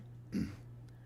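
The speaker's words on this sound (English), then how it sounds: "Jeez, I'm like coughing." A single short cough or throat clear from a man, close to the microphone, sitting over a steady low electrical hum with no speech around it.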